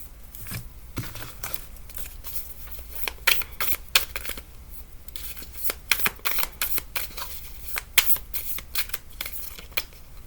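Tarot cards being shuffled by hand, a steady run of crisp riffling slaps and flutters repeating close up over ten seconds, with no talking.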